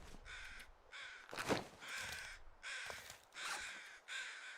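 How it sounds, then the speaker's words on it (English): Crows in the survival video game The Long Dark caw over and over in a steady series of harsh calls, fairly loud and with no voices over them. "the crows are working double shifts today"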